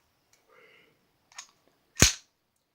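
A Norinco NP34 decocker pistol being cleared gives a faint rattle, a small click, then one sharp loud metallic snap of the slide, close up and with no voice.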